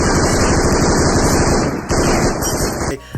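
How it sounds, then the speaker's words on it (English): Tommy gun machine-gun fire from an anime gangster scene, a loud, dense continuous burst of rapid shots lasting nearly three seconds before cutting off abruptly. "pulls out the Tommy gun, and he just like brrr, brrr, firing off the Katakuri"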